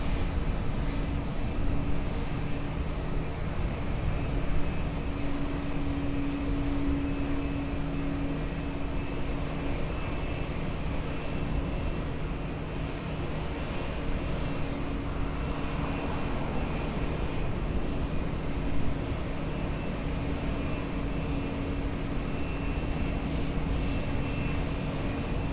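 Fixed-wing aircraft engine roar at Lisbon Airport, a steady broad drone with a faint tonal hum running unbroken throughout at moderate distance.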